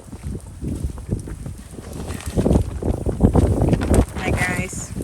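Strong blizzard wind gusts at a snowy tent campsite, buffeting a Crua insulated tent in deep snow, roaring steadily and building louder through the middle, with a voice speaking briefly under the noise.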